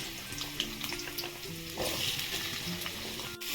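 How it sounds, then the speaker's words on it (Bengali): Cut potato pieces frying in hot oil tempered with nigella seeds and slit green chillies, a close, continuous sizzle with light stirring scrapes and no talk. "দিয়ে দিচ্ছি কেটে রাখা আলুর টুকরোগুলো।"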